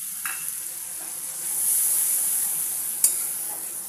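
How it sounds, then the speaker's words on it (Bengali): Spice paste for a tangra fish curry is stir-fried in a pan after bowl-rinsing water is added. A steady, close hiss of sizzling runs throughout, broken by a couple of brief utensil clicks. "এই যে আমি বাটি ধোয়া জল দিয়ে মশলাটা একটু ভালো করে কষিয়ে নেব"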